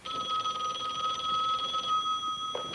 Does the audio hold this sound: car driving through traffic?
no